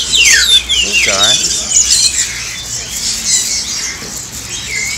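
Caged birds at the Mong Kok bird market in Hong Kong, a loud close flurry of squawks, chirps and rising whistles repeating over several seconds amid market background noise.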